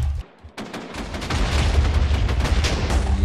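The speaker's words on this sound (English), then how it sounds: "Auto cannon moment." Rapid autocannon fire from an M2A3 Bradley in a military vehicle video game, a loud, dense stream of shots that starts after a short pause and keeps going without a break.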